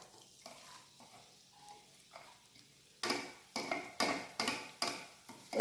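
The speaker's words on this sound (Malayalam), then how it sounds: "അപ്പോൾ നമുക്കിത് ഓരോന്നോരം ഇട്ടൊന്ന് വഴട്ടിയെടുക്കാം." Onion, green chilli and curry leaves being sautéed in a pan, a quiet low sizzle at first, then a series of sharp, regular scraping stirs of a spoon against the pan, close and distinct.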